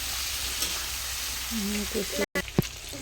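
Chopped onion fries with potato and soybean in a pan, a steady crackling sizzle with some stirring, while a voice speaks briefly partway through.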